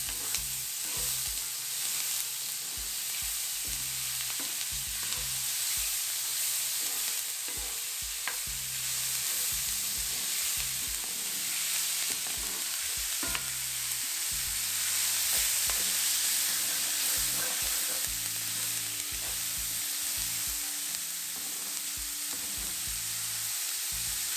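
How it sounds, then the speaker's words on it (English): Onions sautéing in a pan for Indian malai kofta, a steady close sizzle with intermittent scraping and stirring clatter running through the whole stretch, no talk. "we'll saute this until the onions start to turn translucent"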